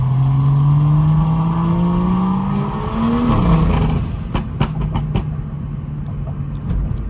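BMW N55 with a Pure 500 turbo revs up, then eases off, its exhaust letting out a scattering of sharp, moderately loud pops and crackles on deceleration, heard from inside the car.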